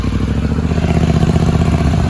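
A Polaris Scrambler 850 ATV engine runs loud and close while riding, a steady throbbing motor drone with no talking.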